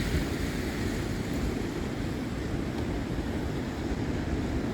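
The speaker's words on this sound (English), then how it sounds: "The water is flowing quite fast today, it looks like, because there was some rain overnight." Fast-flowing river water in Örebro after overnight rain, a continuous broad rushing roar with some wind buffeting the microphone, steady and fairly loud throughout.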